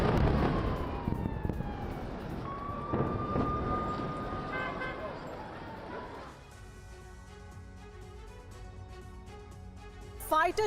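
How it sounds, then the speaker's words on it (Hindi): A wailing emergency siren rises and falls in the distance under a busy, noisy background, then gives way to other tonal sounds and clutter. "राफा में बज रहे हैं इमरजेंसी सायरन।"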